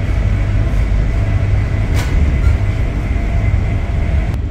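Charter train from Crewe to London Euston running through a station, heard from inside as a loud, steady low rumble with a brief sharper clatter midway and a click near the end.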